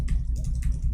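Quick clicks of keys on a faulty computer keyboard, about four close, crisp taps in a second over a low steady hum.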